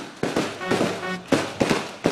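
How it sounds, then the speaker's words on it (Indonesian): Fireworks burst at a three-day anniversary festival of an Islamic boarding school in Yogyakarta, with loud booming explosions coming in quick succession, about five sharp cracks each followed by a rumbling tail. "pesta kembang api ini akan berlangsung selama 3 hari 3 malam"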